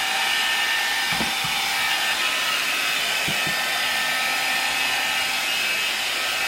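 A Swiffer Sweep Vac cordless vacuum runs continuously with a steady, loud whirring hiss at close range, broken by a few brief knocks and clatters of debris, with no talk.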